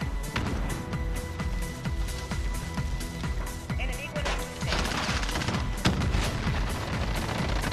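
Warzone gunfire from a hip-fired weapon: rapid, dense bursts of shots and booming explosions packed together, loud and continuous, with a voice talking over the battle.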